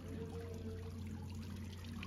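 A small decorative water feature in a hotel courtyard trickles and burbles steadily at a low, even level, a soft continuous wash of running water with a faint hum beneath it and no talking.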